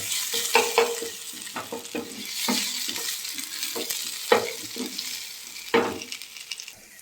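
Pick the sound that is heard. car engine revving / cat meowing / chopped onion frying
chopped onion frying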